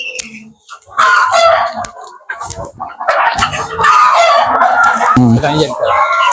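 Chickens cluck and call at a nature-style guesthouse in Jaffna, a loud, busy jumble of close hen sounds with someone talking over them throughout.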